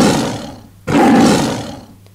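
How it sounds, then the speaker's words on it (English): A tiger gives two powerful, close roars. The second, after a brief gap, is louder and longer, and both are broad and gravelly and tail off at the end. "T-I-G-E-R, tiger."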